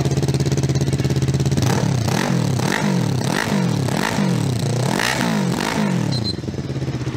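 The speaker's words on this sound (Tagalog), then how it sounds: "Yan ang tunog ng Falcon X 400 mga sayo." Engine of an FKM Falcon X400 motorcycle at a sound check: a steady loud idle rumble, then a run of repeated throttle revs rising and falling in quick succession, close to the microphone, with no talking.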